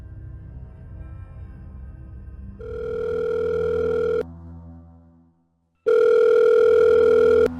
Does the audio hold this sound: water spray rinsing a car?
no